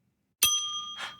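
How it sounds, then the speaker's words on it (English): A desk bell of the kind found at a reception counter is struck once, giving a bright, clear ding that rings on with a sustained metallic tone, close and alone, with a soft second shimmer just before it fades. "Yeah, a desk bell."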